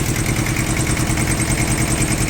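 Japanese mini tractor with a rotary tiller attachment idling close by, a loud, even engine chug with a steady pulsing rhythm and no voices.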